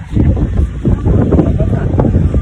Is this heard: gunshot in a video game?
no